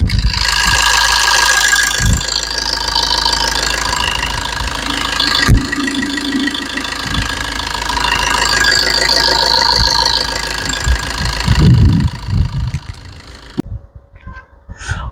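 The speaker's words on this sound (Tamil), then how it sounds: "இன்ஜின் நாய்ஸ் பார்க்கலாங்க" A Maruti Swift VDI diesel car engine idles with a steady clattering rumble for most of the time, then cuts off, leaving near silence.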